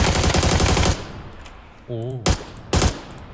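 Short bursts of AUG assault rifle fire in the battle-royale game PUBG: a sustained loud volley, a pause with a brief spoken exclamation, then two more quick sharp bursts close up.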